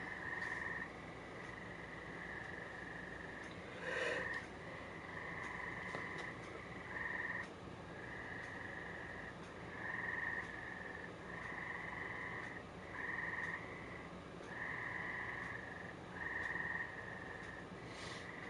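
A chorus of frogs croaking at night, sounding in a regular train of bursts of a second or so each, fairly faint but steady against a quiet hiss, with no talking.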